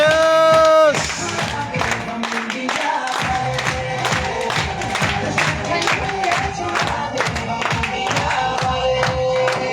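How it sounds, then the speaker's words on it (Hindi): An audience stands with hands raised and claps loudly in unison at an Altos Academy Ayurveda event, a dense, steady burst of applause with some voices mixed in, following a brief tone at the start. "खड़ा होके हाथ ऊपर करके एक बार जोरदार ताली बजाइए"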